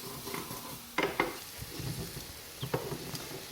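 Crushed garlic and ginger stirred in a pan for chicken curry, a soft low sizzle broken by a few clinks and scrapes of a spoon against the pan, quiet and close.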